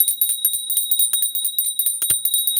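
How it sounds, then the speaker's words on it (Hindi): A small metal prayer bell rings rapidly and continuously, bright high tones ringing out with quick repeated strikes, close and loud with no talking. "इस घंटी की आवाज़ सुनो ना"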